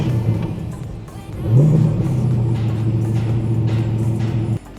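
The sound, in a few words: car engine running at auto show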